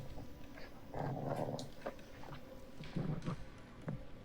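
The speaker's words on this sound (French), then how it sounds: "C'est le chien!" A dog growls in the horror video game The Devil In Me, with low, faint rumbling bursts coming in two or three short spells.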